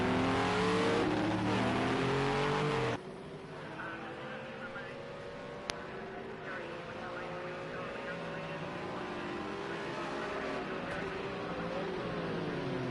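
A GT3 race car in a racing video game, at the Zolder circuit, revs loudly out of the pit lane, then drops to a lower engine drone that climbs steadily again as it accelerates.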